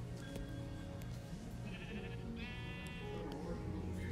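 Repeated Minecraft sheep bleats ring out in short harmonic bursts over a continuous game background, clear and close, with a few sharp clicks between calls.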